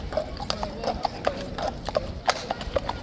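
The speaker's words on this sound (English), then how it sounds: "Curious horse, look." Hooves clip-clop steadily from a mounted horse at Horse Guards in London, a quick, close, irregular series of sharp knocks over outdoor ambience with a voice talking.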